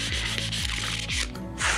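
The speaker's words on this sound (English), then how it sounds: "Take your trusty sanding block and just lightly sand the spots where all the numbers and letters are." A sanding block is lightly sanded over clear plastic tubing, giving soft, rhythmic back-and-forth scraping strokes, close and fairly quiet, with no one talking.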